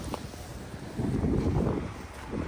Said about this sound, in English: It's very windy as well, so I hope the audio is not too bad.